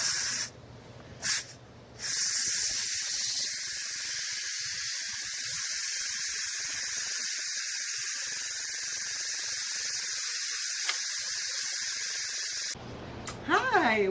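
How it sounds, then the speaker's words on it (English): Steam hisses loudly and continuously from the release valve on top of a pressure cooker while beef curry stew is being cooked, one long sustained jet lasting several seconds with brief breaks at either end. "I'm going to open the release valve on the top."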